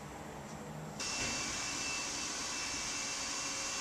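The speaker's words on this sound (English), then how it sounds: "That noise is coming from inside an elevator." An elevator running inside a building gives a steady, loud broadband whir that steps up abruptly after the first second and then holds evenly throughout, with no talking.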